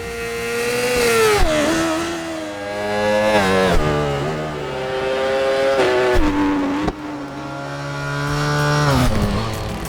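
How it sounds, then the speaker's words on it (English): Super sports bike engine in RIDE 4 revving hard in repeated rising and falling sweeps, loud and close, with gear changes between climbs. "Real enthusiasts can guess a bike by its sound even before seeing it."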